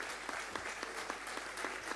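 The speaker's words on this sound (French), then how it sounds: "vous pouvez chaleureusement les applaudir" Faint, distant clapping comes from the audience at a round-table event on technician training, with individual claps audible in an even patter.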